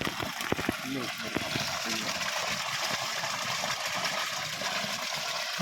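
Water gushes steadily from a borewell pipe in a loud continuous rush, with voices talking underneath.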